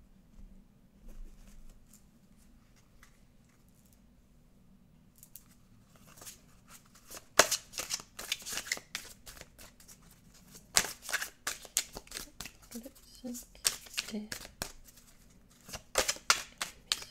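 Oracle cards being shuffled by hand, bursts of crisp riffling and soft flicking that start after a quiet opening and repeat in uneven clusters, close and fairly faint.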